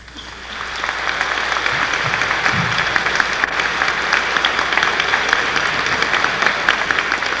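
A graduation ceremony audience breaks into sustained applause, rising after the first second into a steady, dense wash of clapping that carries on without pause.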